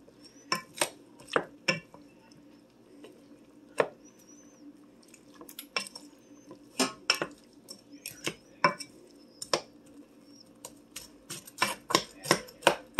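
Utensil scraping and tapping in a pan while ramen noodles are flipped with browned turkey: scattered sharp clinks and knocks, irregular and close, over a low kitchen hum.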